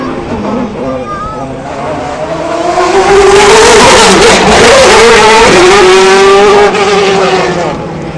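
An F1 racing car drives past at an air and motor show, its engine note rising loudly as it approaches, holding a strong roar, then falling away with a pitch drop as it passes.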